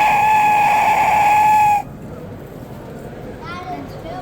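A toy scream whistle blown hard gives a loud, shrill, sustained tone for about two seconds and then cuts off, leaving quiet room noise and a faint distant chirp.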